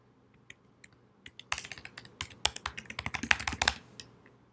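Typing on a computer keyboard during live web development. A few scattered keystrokes give way to a fast, close burst of clattering keys, then it tapers off.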